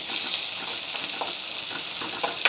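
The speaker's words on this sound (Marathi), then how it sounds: "चांगलं फ्राय करून घ्यायचं" Chopped onions fry in a hot pan with a steady, dense sizzle that stays close and even throughout, with faint stirring scrapes now and then and no talking.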